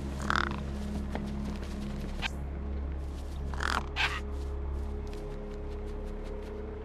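A crow in the video game Beyond a Steel Sky lets out a couple of short harsh caws, one near the start and another pair around the middle, over a steady low mechanical hum with creaks.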